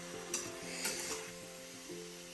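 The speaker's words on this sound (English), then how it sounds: "Now we have our bacon all stirred in." Bacon is stirred into cauliflower rice in a pan, a faint, continuous sizzle with a few soft scraping strokes of the spoon.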